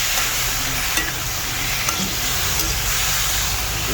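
Beef frying in a hot pan while being stirred, giving a steady, loud sizzle throughout with a few faint scrapes and clicks of stirring over it and no talking.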